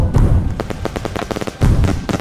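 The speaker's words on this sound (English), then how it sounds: "the fireworks usually are different colors every time" Fireworks bursting in the Roblox game Skyblox: a quick run of sharp crackling pops and thuds, loud and close, in irregular clusters with a brief gap before another burst.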